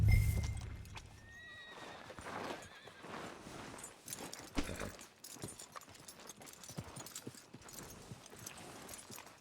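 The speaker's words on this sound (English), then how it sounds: "Are you gonna mount that new horse of yours or not?" A horse in the video game Red Dead Redemption 2 gives a loud whinny, followed by a steady clip-clop of hooves moving along under game ambience.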